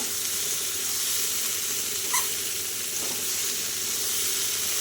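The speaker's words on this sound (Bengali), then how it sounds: "আর একটুখানি ভেজে নিই" Vegetables fry in a pan with a steady, close sizzle throughout, broad and even, with one faint clink of a utensil partway through.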